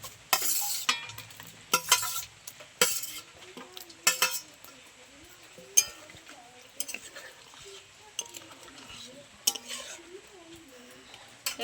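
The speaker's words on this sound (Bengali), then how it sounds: "আমার ঝোলটা ভালো ফুটে গেছে, এবার ভেজে রাখা পটল দিয়ে দেবো।" Fried pointed gourd pieces being added to boiling milk gravy and stirred, with repeated sharp clinks of a spoon against the pot between quieter bubbling, fairly close and moderately soft.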